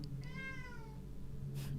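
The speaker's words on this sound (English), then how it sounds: "That's the sound of my cat." A cat meows once in a video game, a clear rising-falling call with a steady low hum beneath it and a brief rustle afterward.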